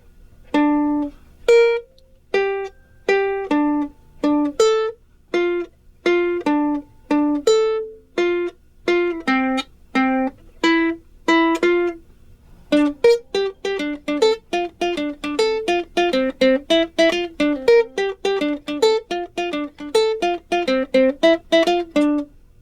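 A plucked ukulele picks out a single-note melody, slow and evenly spaced at first, then quickening into a denser run of notes; close and clear, no voices.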